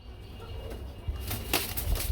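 Farm pigeons flutter and flap their wings close by, with a few soft coos and low rustling in a busy loft.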